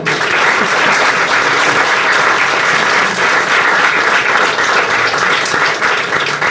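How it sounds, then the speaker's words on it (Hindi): A crowd applauds a mother being honoured after her child passes the SBI Clerk 2024 exam, a loud, continuous, evenly dense clapping that runs unbroken for over six seconds with no talk over it. "मम्मी के लिए ताली बजा दो भाई"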